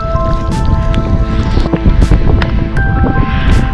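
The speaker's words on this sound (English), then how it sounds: "I'm trying to protect the camera from the wind so you can actually hear what I'm saying" Strong wind on an open fell top in the Lake District buffets the camera microphone, producing a continuous loud rumbling roar with sharp gusty bursts and crackles.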